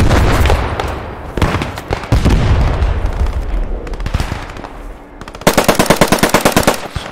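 Heavy gunfire in the World War II shooter Post Scriptum: a rapid cluster of loud bursts, then irregular shots through a dense battle din, ending in a fast, regular machine-gun rattle.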